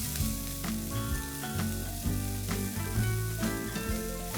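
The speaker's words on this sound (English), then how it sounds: "Just saute it for a minute." Finely chopped cabbage with boiled green peas and boiled yellow corn sizzling steadily as it is sautéed in a pan, a continuous frying hiss with a few soft stirring knocks, with steady tones running underneath.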